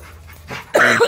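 A dog pants in quick, breathy puffs, then lets out a louder, higher whine or whimper at the end; close by, no talking.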